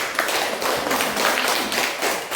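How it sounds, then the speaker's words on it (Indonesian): Brief classroom applause from a group of students, a short burst of rapid, uneven hand claps filling the room at close range with no talking over it. "Oke, tepuk tangan dulu ya."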